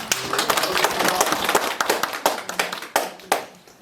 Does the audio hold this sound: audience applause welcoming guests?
yes